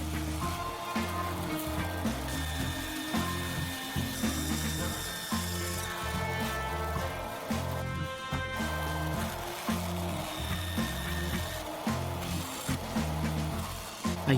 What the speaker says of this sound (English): I'll head over to the bandsaw and cut this section out.